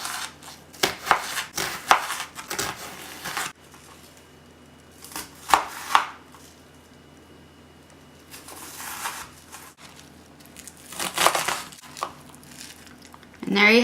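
A knife slices through an onion on a cutting board in quick clusters of crisp cuts, followed by pauses. The cuts are close and fairly loud, with no voice over them.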